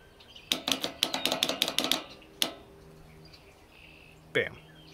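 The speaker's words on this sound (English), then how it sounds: "Can you hear that clicking?" A defective starter solenoid on a Ferris ProCut S series mower gives a rapid burst of about a dozen sharp clicks, then one isolated click and a brief thump, all close by.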